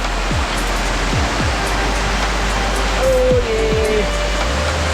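Hidden waterfall at Ranjanpada village near Alibag, a steady loud broadband rush of falling water filling the whole stretch, with a few brief low thumps and a faint tonal whistle partway through.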